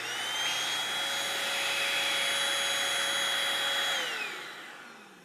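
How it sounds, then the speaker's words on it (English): A Eureka Blaze 3-in-1 stick vacuum runs with a steady high whine and airy rush, then spins down and fades out near the end, close and alone. "you slide this forward and it turns the vacuum on"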